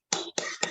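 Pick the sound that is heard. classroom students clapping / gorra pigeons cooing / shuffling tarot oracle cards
classroom students clapping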